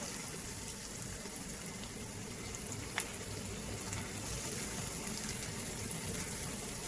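Garlic and onion frying in a pan, a steady, moderately quiet sizzle with one sharp click partway through.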